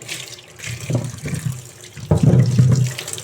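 Tap water runs into a sink while market groceries are washed by hand, close splashing and gushing in uneven bursts that swell louder near the end, with no talking.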